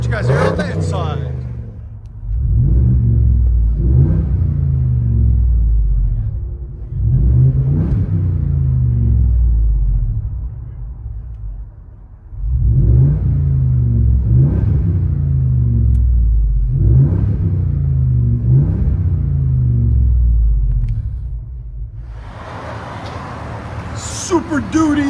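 From inside the cab, a Ford F-250 Super Duty with the 7.3L Godzilla V8 and a muffler delete rumbles deep and loud, rising in several revving surges that fall back between them, with brief talk near the end.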